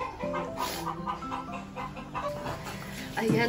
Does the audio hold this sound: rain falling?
no